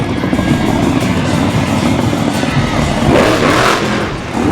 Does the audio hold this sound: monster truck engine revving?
yes